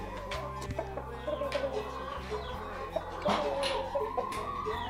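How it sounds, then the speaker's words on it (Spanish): Several chickens cluck and murmur close by, a rooster among them, overlapping short calls over a steady low hum, with no talking. "Voy a llevarle ahí comida a unos pollos que tengo"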